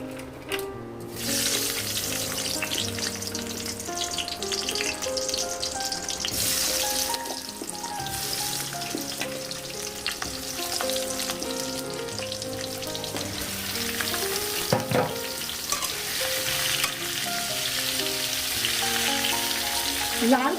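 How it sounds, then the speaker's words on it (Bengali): Ivy gourd (kundri) frying in a wok of hot mustard oil, giving a steady, close sizzle that runs throughout beneath louder background music. "লাল করে খুব ভালো করে আমি কুন্দ্রিগুলো ভেজে নেব।"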